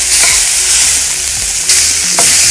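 Prawns fry loudly in a pan for a burrito, sizzling steadily and close up, with a couple of sharp bursts as they are stirred or moved. No one speaks.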